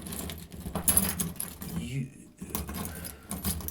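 Keys jangle and clink in scattered bursts, close by, with a voice talking over and between the metallic rattling.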